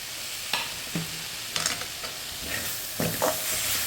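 Grated coconut is stirred into snake gourd stir-fry cooking in a pan, giving a soft background sizzle with several distinct scraping strokes of a spoon against the pan, close and unaccompanied by talk.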